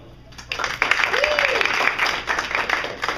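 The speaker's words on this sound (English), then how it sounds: "Round of applause for whoever said Mulan." Round of applause from a comedy-show audience, dense clapping building quickly and holding steady with a whistle or cheer rising briefly partway through, voices mixed in.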